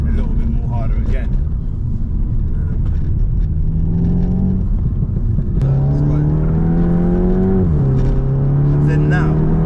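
A tuned Stage 3 Skoda Octavia vRS of 477 bhp accelerates hard in third gear, its loud engine note climbing steadily in pitch, dipping briefly, then pulling upward again over constant road roar.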